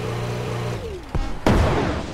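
A bazooka in the video game Brick Rigs: a sharp launch thump followed by a loud, booming blast with a rushing tail, rising out of a steady engine-like drone.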